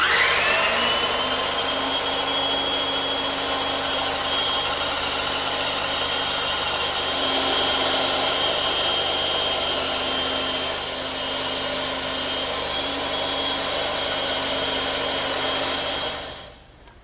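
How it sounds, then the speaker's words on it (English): A power saw cuts 2x4 timber freehand without a rip fence for a garden bench. It gives a loud, steady whining drone that holds for about sixteen seconds, then winds down at the end. "Now, I have to cut this all freehand, no rip fence."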